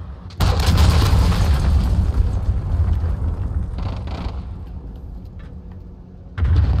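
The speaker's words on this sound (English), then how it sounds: "Enemy cruise missile incoming." A cruise missile detonates in a Call of Duty Modern Warfare Hardcore Team Deathmatch match on the Gun Runner map, a sudden loud boom with a long rumbling decay, then another burst at the end.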